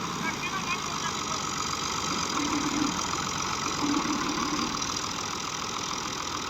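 A stuck Fiat 480 tractor's diesel engine runs in a steady, rough idle with a knocking throb, loud and close, while someone talks over it.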